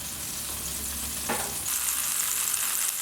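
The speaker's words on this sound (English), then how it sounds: "So that's starting to sizzle a little bit." Oil heating in a pan gives off a steady, soft sizzle with a gentle hiss that swells slightly partway through, no talking over it.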